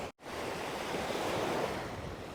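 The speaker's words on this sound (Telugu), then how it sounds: "హోప్ మీ అందరికీ ఈ బ్యూటిఫుల్ బీచ్ నచ్చిందని అనుకుంటున్నాను." Surf washing steadily onto a beach of clear water on a remote island, a continuous broad roar of breaking waves with some wind noise after a brief dropout at the start.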